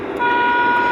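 A car horn sounds during a driving training lesson: one steady, loud tonal blare held for about a second, close to the listener, with no talking over it.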